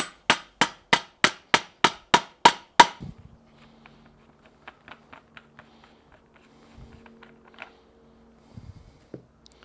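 A bicycle fork star nut is hammered in with a setting tool: about ten sharp, evenly spaced metallic blows ring out loud and close, then quiet faint clicks and handling follow.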